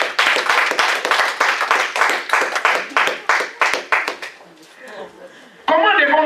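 A church congregation claps loudly in a steady, rhythmic burst of applause that gradually thins out, with a voice speaking over the end.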